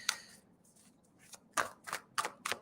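Tarot cards are shuffled during a live reading: a quiet close riffle, then several short papery flicks and slaps spaced irregularly near the end.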